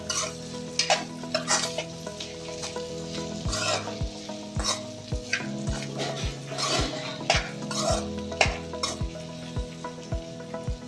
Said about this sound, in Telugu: అన్నీ వేసాం కదా, ఇలా కలుపుకుందాం.